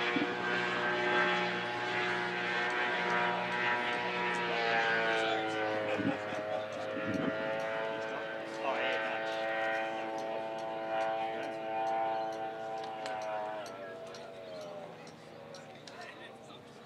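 A racing powerboat engine rounds a turn during Friday practice at the Windsor Spectacular, a steady droning whine with rising and falling pitch under continuous commentary.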